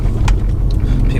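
A Mercedes-AMG A45 with its 2-litre engine, a deep, loud, close idle rumble holding steady for a brief moment, with faint clicks above it.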